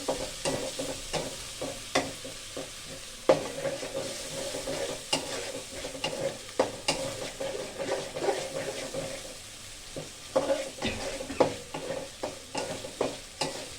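Prawns stir-fried in a pan for a bottle gourd and prawn curry, with steady sizzling and repeated scraping strokes of a spatula, close and fairly quiet, with no voices.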